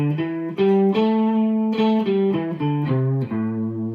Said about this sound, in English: So here's regular pentatonic.